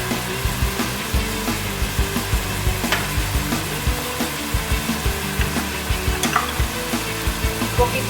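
Sofrito sizzles steadily in a pan while a utensil stirs it in regular scraping strokes, close and clear, with no talking.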